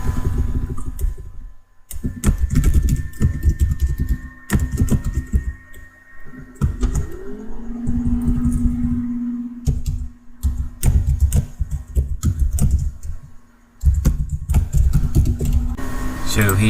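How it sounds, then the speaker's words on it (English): Someone types on a computer keyboard, producing quick bursts of close clicking keystrokes separated by short pauses, with a faint background hum. "So let me just quickly type this."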